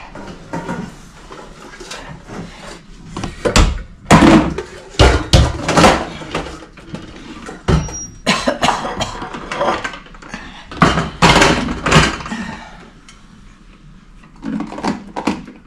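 Bowls, dishes and a pot clattering and thumping as they are set back into a corner cupboard, with irregular close knocks, ceramic clinks and cupboard bumps spread across the stretch.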